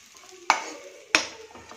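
Spiced matar kachori filling being stirred in a pan, two sharp scrapes of a spoon against the metal over a faint background sizzle, with no voices.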